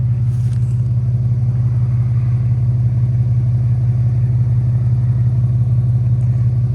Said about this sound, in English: this is how it sounds like idling right now